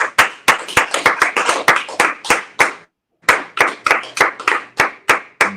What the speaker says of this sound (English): clap for me now.